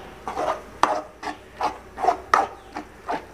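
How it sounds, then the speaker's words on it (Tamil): Cooked rice is stirred together with tomato gravy in a pot, a series of soft scraping, rubbing strokes repeating in a loose, steady rhythm, close by and with no voices. "அதுக்கு வேணுன்ற அளவு மட்டும் அதை போட்டு இந்த கிரேவியை போட்டு நீங்கள் கிண்டிக்கோங்க"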